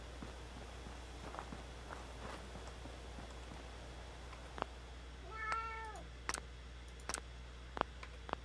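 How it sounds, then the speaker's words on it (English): A pet cat lets out a single clear meow midway, with scattered light clicks and taps that could be footsteps, all faint over a steady low background hum. "I have a cat to attend to."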